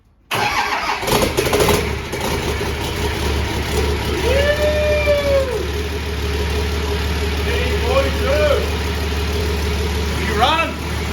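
A Nissan Patrol diesel freshly converted to a TD42 is cranked over without fuel to build oil pressure; a loud, close starter-driven churning drones on steadily for about ten seconds, with faint whining tones drifting over it.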